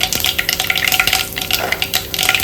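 Mustard seeds crackle and sizzle in hot oil in a frying pan for squid sukka, with a dense, busy hiss broken by repeated stirring scrapes and clinks, close up with no voices.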